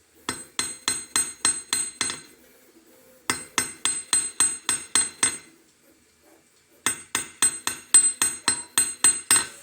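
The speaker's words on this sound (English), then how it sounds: "hammer it out, get it flat, get it straight." Three bursts of rapid, even metallic hammer taps flattening bronze wire, about seven strikes each, ringing brightly with short pauses between.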